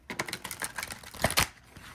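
Quick, crisp riffling clicks of tarot cards being shuffled, a rapid run of light snaps close to the microphone, with no talking.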